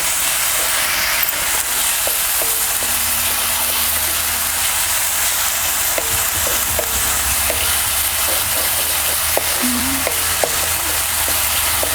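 Chopped green chili and garlic frying in oil for a Marathi amaranth leaf (tandulja bhaji) dish, a steady hiss and sizzle throughout with occasional faint clinks of a spatula stirring in the pan.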